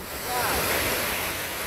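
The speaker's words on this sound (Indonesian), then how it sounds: "Ombaknya itu loh, Bu." Waves washing onto the shore at Pantai Bidadari on Lake Ranau, South Sumatra: a brief, close surge of foamy rushing water that swells and holds, mixed with wind buffeting the microphone.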